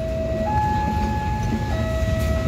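A train shunts a baggage car, a Taksaka executive car and an economy car, with a rumbling, rolling drone and long, steady horn-like tones that shift pitch partway through.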